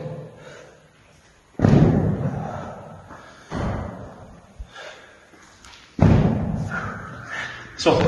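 Heavy thuds of feet landing from explosive lateral jumps in a training session, three loud impacts spaced a couple of seconds apart with softer shuffling between, close by and with no talk over them.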